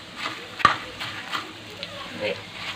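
Coriander seeds and dried red chillies dry-roasting in a pan for spicy podi, heard as soft rhythmic stirring scrapes with a gentle crackle and one sharper clink, close and fairly quiet.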